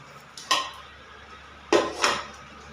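Dishes and pots clang and clatter during washing in a home kitchen, three sharp metallic knocks in quick succession with quiet pauses between.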